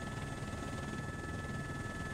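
A helicopter in flight gives a steady, dense rotor and engine roar with a faint constant whine, loud and unbroken throughout with no talking.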